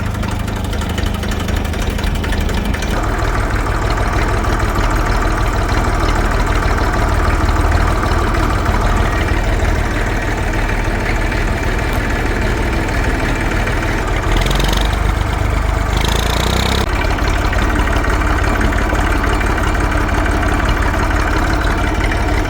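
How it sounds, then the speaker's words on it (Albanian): A mowing machine's engine runs at a steady, loud drone while cutting grass in a village in Krushe e Madhe. The tone shifts briefly partway through, and no one speaks over it. "Sot nga kanë ndihmua dhe Elvisi me kosit."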